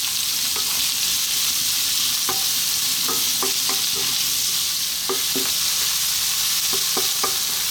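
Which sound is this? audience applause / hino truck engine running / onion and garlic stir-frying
onion and garlic stir-frying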